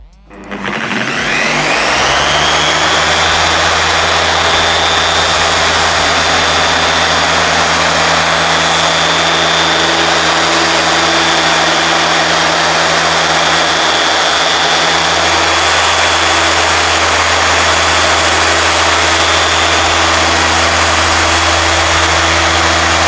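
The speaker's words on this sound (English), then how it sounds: "When you're polishing, move the polisher slowly." A dual-action machine polisher runs steadily on car paint, giving a loud, continuous whine with a low motor hum that spins up at the start and holds without a break.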